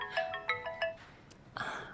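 A mobile phone plays its ringtone for an incoming call: a short repeating melody of bright electronic tones, clear and close, in a Tamil short film scene.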